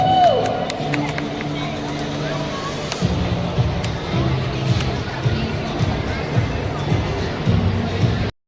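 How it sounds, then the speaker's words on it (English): A crowd at a Mother's Day show in a Bengaluru mall claps and cheers steadily, with loud applause and hubbub from start to end and a brief whistle or shout near the beginning. "Claps everyone, claps."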